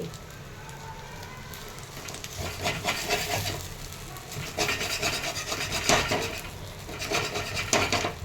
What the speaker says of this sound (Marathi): अशा आता मी बारीक करून घेते